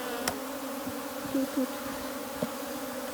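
Honeybees hum in a continuous low drone as they are shaken off hive frames, with a few sharp knocks and thumps from the frames and only a brief word spoken.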